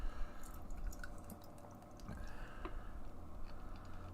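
Societe Brewing's The Pupil, an American IPA, pours into a glass as a quiet trickle with soft drips and gentle fizzing, faint and close, with no talking.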